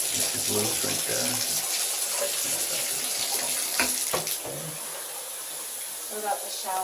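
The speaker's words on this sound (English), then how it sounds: "Can you check the shower? Shower head. It works." Water runs from a shower head in a rental home's bathroom, a steady hiss throughout, with a voice and some knocks and clatter over it.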